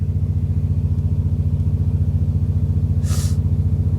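Nissan 240SX engine idling in drive, a steady pulsing rumble with a slight fluctuation, close and loud, with a brief hiss near the end.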